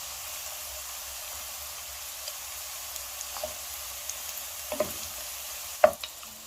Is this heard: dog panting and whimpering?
no